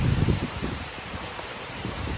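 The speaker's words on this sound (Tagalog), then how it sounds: "Pero sobrang lakas talaga nung nung hangin" Strong typhoon wind in the Philippines roars steadily outside, a dense broadband rush with gusty low buffeting against the microphone, no voices.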